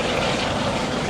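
A Coast Guard HC-130J, the J model with six-blade propellers, drones steadily overhead at an air show over Kaneohe Bay, a broad continuous engine roar with no break across the short stretch.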